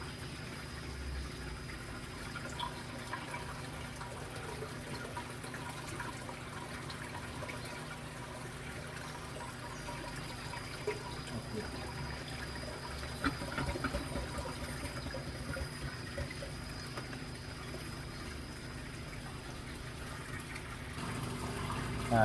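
Water draining from an aquarium fitted with a vertical autovalve makes a steady, faint trickling rush that runs continuously for about twenty seconds with little change and no talking.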